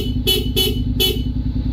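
Three short horn honks, each a bright buzzy burst, from a Denso compact horn on a 2025 Honda X-ADV 750 motorcycle, close and loud over a steady low engine idle.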